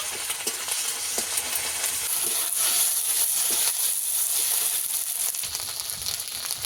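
Ginger-garlic paste hits hot oil in a wok where fish for a spicy fish curry has been frying, giving a steady, close sizzle with scraping stirs and light clinks throughout, and no talking.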